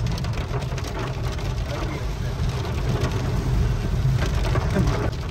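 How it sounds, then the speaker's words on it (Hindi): Steady rain pouring down at Sukhna Lake, Chandigarh, with a constant broadband hiss and low rumble, continuous throughout, with some voices faintly mixed in. "बारिश तो भी और भी तेज होती जान लग रही बारिश देख लो एक बार"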